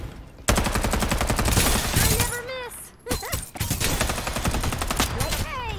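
Bursts of rapid gunfire crack loudly in a mobile battle royale shooter, dense automatic volleys filling nearly the whole clip with a short gap midway, along with game effects.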